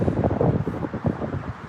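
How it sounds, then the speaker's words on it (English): Wind gusts across the microphone at a scenic overlook above Frederick, with mountains in the distance: a steady, close rumbling buffet that swells and dips for the whole stretch, with no talking. "It's windy up here."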